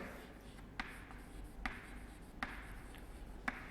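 Chalk or marker writing on a board during a biology lecture, soft scratching strokes with four distinct taps spaced about a second apart over a steady room hum.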